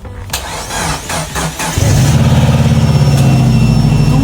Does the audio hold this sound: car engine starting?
yes